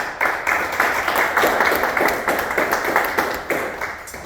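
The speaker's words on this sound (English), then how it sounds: "a big round of applause for him" A room full of people at a Toastmasters meeting clapping steadily, a warm round of applause with many overlapping hand claps at moderate loudness.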